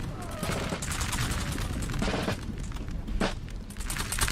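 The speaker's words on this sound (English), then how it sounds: "my troops firing at the cav, but not really doing any casualties" Troops in Napoleon: Total War, using the NTW3 mod, fire musket volleys at cavalry in a multiplayer battle. The crackling shots come in repeated ragged bursts, some close and loud, over a busy battlefield din.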